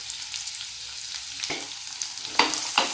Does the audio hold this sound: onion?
yes